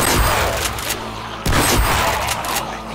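Shotgun fire in a Minecraft zombie modpack during a horde attack: a few heavy booming blasts over constant loud game noise, with a sharp close shot midway.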